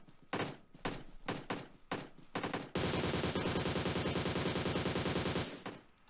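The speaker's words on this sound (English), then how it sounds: "I'm going to hip fire this guy in a second." AUG rifle hip fire in PUBG Mobile: a few short, loud bursts, then a long, unbroken stream of rapid automatic shots that stops abruptly.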